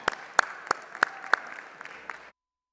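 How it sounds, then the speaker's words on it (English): A short burst of applause rises in a legislative chamber as members honor visiting Midway High School students, sharp clustered claps peaking several times over about two seconds before cutting off abruptly. "Let's give them a round of applause."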